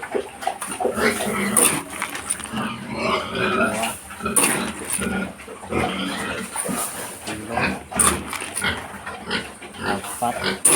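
Young pet piglets, about three months old, being fed in the morning, with dense snorts, squeals and oinks close up throughout, mixed with clattering and someone talking over the animals.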